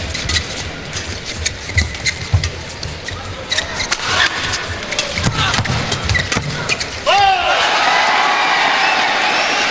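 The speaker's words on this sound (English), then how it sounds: "They've got a lot of support here in this crowd." A badminton arena crowd at a world championship men's doubles match cheers loudly for the Korean players, a sustained roar of voices and whoops swelling toward the end, with a commentator talking over it.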